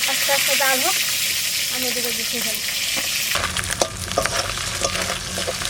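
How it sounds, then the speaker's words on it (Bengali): A catla fish head sizzles and spatters in hot oil, with voices talking over the first half, then a louder, crackling fry takes over. "মাছের মাথা খুব ভালো করে ভাজা হয়ে গেছে"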